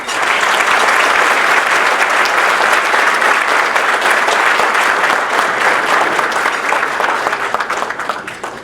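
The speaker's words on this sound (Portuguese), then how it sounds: "recebam com uma salva de palmas o presidente Rodrigo Maia" An audience at a business luncheon breaks into sustained, loud applause welcoming Brazilian politician Rodrigo Maia, a dense steady roar of many hands that tapers slightly near the end.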